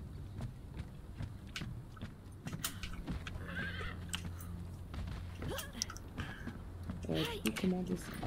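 Horse sounds in the video game Conan Exiles, Isle of Siptah: soft hoof clops and chewing-like clicks with brief whinnying tones, mixed under a low game hum and intermittent background noise.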